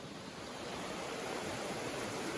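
A woodland creek flowing steadily as a broadband rushing wash, close and constant with no breaks, alone without any voices, while salamanders are searched for along its banks.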